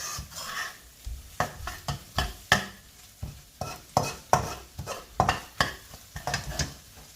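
Spicy mixture frying in a pan, with repeated sharp stirring scrapes and clacks over a soft, steady sizzle, close and fairly loud in an uneven rhythm.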